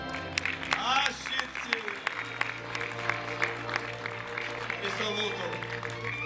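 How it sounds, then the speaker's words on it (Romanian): Audience applause at a live Aromanian music concert, a steady patter of many hands clapping under an amplified voice speaking over the crowd. "Dați un aplauzul!"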